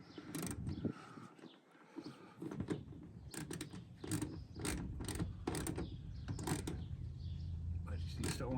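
Ratchet clicking in short repeated bursts while tightening the screws on mud flaps fitted to a Ford Maverick pickup, close and fairly loud, with a person talking over and between the clicks.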